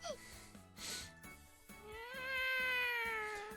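A cat in the video game ToHeart2 gives a drawn-out meow with a rising and falling pitch near the end, set over soft rhythmic game music, with no talk.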